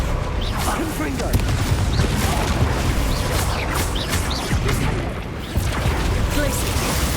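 Confringo fire-spell blasts in the Hogwarts Legacy video game: a dense, continuous rumble of booms, pops and crashes, loud and close, with combat noise layered throughout the whole stretch.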